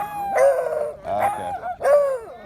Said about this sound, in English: Are those puppies?